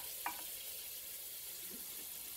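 A salmon fillet fries in a pan, giving a faint, steady sizzling hiss throughout, with a single soft clink near the start.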